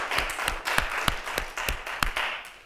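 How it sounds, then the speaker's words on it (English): A conference audience applauds its speakers at a presentation, a dense steady round of clapping from many hands with a few sharper claps standing out, no talking over it. "I think a round of applause for all of our speakers."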